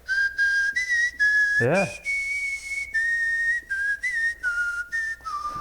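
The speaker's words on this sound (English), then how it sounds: "And then I can even whistle like a whistle." A man whistles without moving his mouth, a string of sustained tonal notes sliding between pitches with short gaps, one rising swoop partway through, close and clear with no talk over the whistling.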